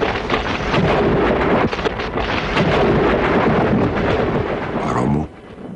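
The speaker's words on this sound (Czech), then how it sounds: "Hromu." Thunder rolls through a thunderstorm, a loud, sustained rumble with heavy rain under it, fading into a brief electronic warble before cutting off near the end.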